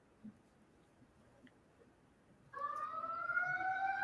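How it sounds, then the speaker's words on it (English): An alarm siren sound effect kicks in abruptly after a few seconds of near silence, a steady wailing tone that holds loud and sustained to the end. "Yes, ring the alarms."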